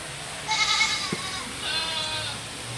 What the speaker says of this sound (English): I hear that noise. You hear the noise? Y'all see the goats?